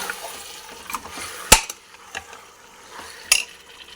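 A spoon stirs mutton curry around a pressure cooker pot, giving soft scraping and wet mixing sounds with two sharp metallic clinks against the rim, close and fairly quiet.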